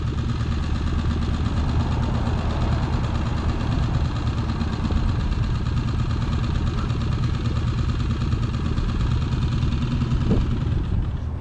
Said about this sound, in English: I'll turn the outboard off